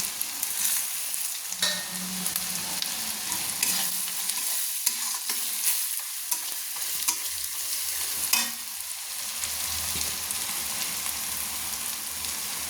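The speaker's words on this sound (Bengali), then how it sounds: "দিয়ে আবারও ভালো করে আমি নেড়ে নিচ্ছি।" Spices with turmeric, coriander powder and ginger paste are stirred and fried in oil in a pan for a Bengali meat curry, a continuous sizzle broken by scraping spoon strokes and clatter, close and without talk.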